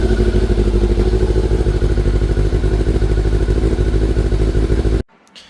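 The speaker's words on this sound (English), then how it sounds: "go ahead and start up and let your bike run for a good like 3 minutes or so" Motorcycle engine idling close by for warm-up, with a steady, even thumping rumble that cuts off abruptly near the end.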